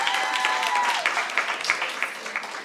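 Applause for a high school softball team at a sports awards ceremony, an indoor crowd clapping steadily and fairly close, dense rapid claps throughout, tapering slightly at the end.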